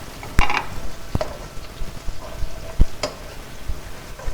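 Onions frying in a pan for homemade chicken vegetable macaroni: a soft, steady sizzle with a few sharp clinks of a utensil against the pan.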